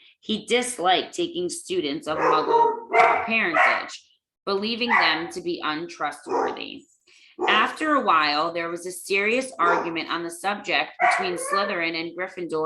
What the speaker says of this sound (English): I apologize for the doggies barking.